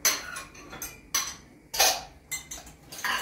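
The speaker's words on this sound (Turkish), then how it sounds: "Bulaşık makinesini de yerleştiriyorum." Dishes clink and clatter as they are loaded into a dishwasher in a home kitchen, with several sharp ceramic and metal knocks at irregular intervals, close and moderately loud, and no talking.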